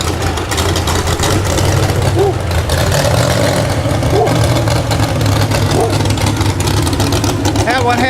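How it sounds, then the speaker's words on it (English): A tractor with a six-cylinder engine and straight pipes, no muffler, rumbling and roaring steadily at an outdoor festival, loud and continuous amid crowd chatter. "Give you an idea just how an engine without a muffler would sound."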